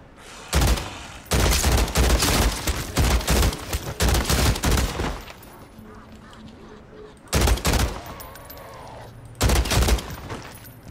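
Rapid automatic gunfire in Call of Duty: Modern Warfare 3 Zombies comes in loud, close bursts, a long run of fire followed by two short bursts after a quieter gap.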